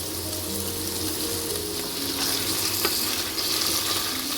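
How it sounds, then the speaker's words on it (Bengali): Paneer cubes frying lightly in a pan make a steady, moderate sizzle, with faint stirring and watery bubbling sounds in the background and no speech. "এবার আমি পনিরগুলো ভেজে নেব।"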